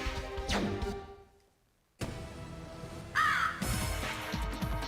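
In the video game Legend of Dragoon, a crow caws a few times, with harsh calls rising out of game ambience, then a pause of near silence, then a sharp crash-like burst and more ambience.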